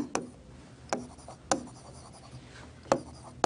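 Chalk or marker taps and scratches on a classroom board in a few sharp strokes with gaps between them, close and fairly loud with no voice over them.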